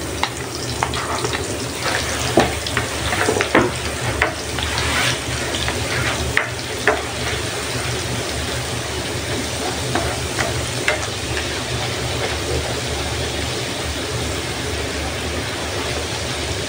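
Garlic frying in melted butter gives a steady, close sizzle with a crackling, bubbling hiss and a few scattered clicks and stirring taps.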